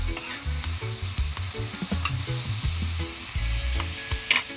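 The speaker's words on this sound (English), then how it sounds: "onion and garlic smells so good when you fry it up" Onion and garlic fry in a pan for a Jamaican tinned mackerel dish. A steady broadband sizzle runs throughout, with some stirring and scraping clatter near the pan and no talking.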